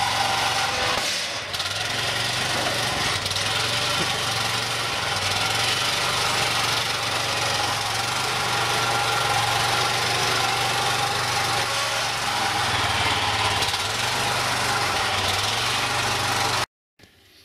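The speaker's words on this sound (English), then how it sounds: "It's got a Kohler engine in it." Kohler engine in a Cushman golf cart runs at a steady idle, a continuous low throbbing chug with mechanical rattle and vibration, close and unbroken until it cuts off at the end.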